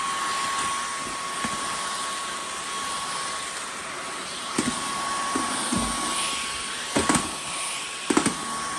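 A Dyson V15 Detect cordless vacuum cleaner runs steadily and close, a loud even whine with a constant pitched tone, broken by a few brief bumps and clatters as it passes over a mat.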